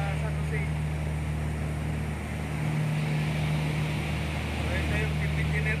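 Steady engine drone of a 300-passenger boat, a continuous low hum with a constant tonal line and some wind noise, loud and close throughout without a break.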